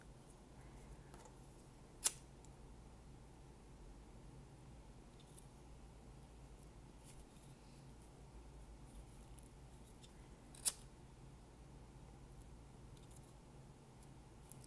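Scissors trim excess crochet thread from a crochet napkin ring, giving two sharp, isolated snips several seconds apart against a very quiet room.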